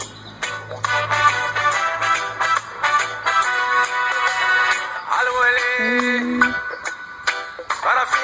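A reggae song plays back steadily, with layered instruments and a sung voice throughout, a low sustained bass tone early on and a rising held note near the end.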